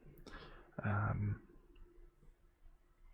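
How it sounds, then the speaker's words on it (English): A computer keyboard tapped near a seed catalog, giving a soft click at the start and then one louder, fuller burst of key contact, followed by quiet room tone with faint breathy speech. "Just gonna touch my keyboard and end it"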